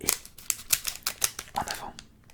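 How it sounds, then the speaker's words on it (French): Scissors snip through the cardboard packaging of a Pokemon Sun and Moon Cosmic Eclipse card box in a quick series of sharp, close crisp cuts, with a faint voice in the background. "Paire de ciseaux."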